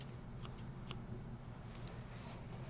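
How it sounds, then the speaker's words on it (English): Grooming scissors trim a cat's fur around the head, giving a few quick, faint snipping clicks over steady low background hum, with no talking. "you turn your scissors, the arch going in, and going around and blending the head"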